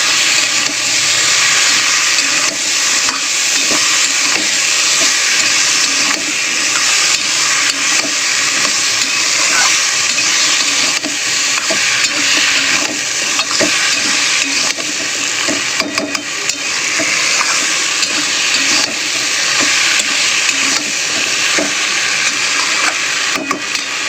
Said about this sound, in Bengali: অল্প একটু জল দিয়ে মশলাটা নেড়ে নেব